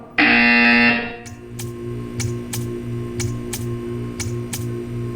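A loud electronic buzzer in the video game Portal 2 blares for under a second, then stops, leaving a low hum with a series of sharp ticking clicks.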